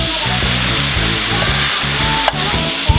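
Pizza sausage frying in a pan crackles loudly and steadily close by, over a low steady hum, with a couple of sharp clicks near the end.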